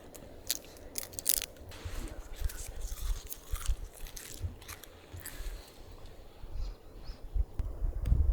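Coca leaves chewed close to the ear, a run of irregular moist crunches and bites at a soft level, alone with no talk.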